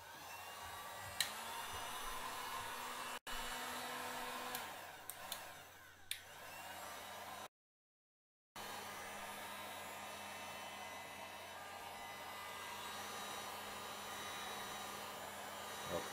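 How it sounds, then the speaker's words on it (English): A heat gun blows a steady, even hiss while heating EVA foam, with a few small clicks and shifts in tone and one brief cut to silence partway through. "then we can hit it with the heat gun"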